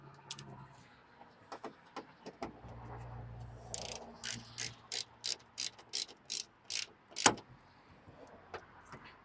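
Small T25 Torx bolts being driven into a Ram 1500 tail light housing with a ratchet, giving a steady run of about a dozen crisp, close clicks that follow a few scattered mechanical taps, with no talking.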